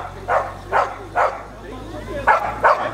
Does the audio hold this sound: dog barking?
yes